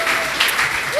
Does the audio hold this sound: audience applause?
yes